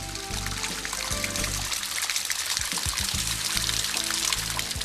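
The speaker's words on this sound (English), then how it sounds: "Stormwater from the city streets flows into this and other sinkholes around town." Stormwater from city streets pours into a collapsed limestone sinkhole, a steady rushing flow with low rumbling surges, fairly close and continuous with no voices.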